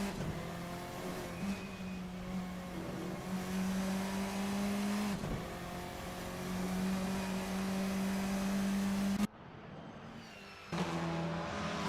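Formula 4 race cars scream around the Estoril circuit, a sustained high engine whine rising and falling as cars pass, with a sudden cut and shift near the end, no voices heard.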